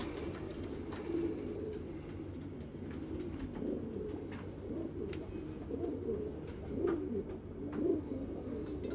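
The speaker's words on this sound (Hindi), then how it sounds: "नायाब कबूतर है जी, नायाब कबूतरों का कुछ शौक करा रहे हैं आपको।" Soft, low cooing of purple (jamuni) pigeons rolls on continuously, several birds murmuring together at a moderate distance with faint background noise.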